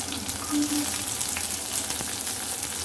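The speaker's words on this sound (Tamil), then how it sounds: "சின்ன வெங்காயம் தான் தாளிக்கணும்" Steady, crackling sizzle of small shallots frying in hot oil for vegetable sambar, close and continuous with a brief faint tone partway through.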